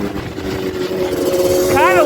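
Yamaha Banshee two-stroke dirt bike engine riding through snow, a steady droning hum with a rising rev near the end, close and continuous.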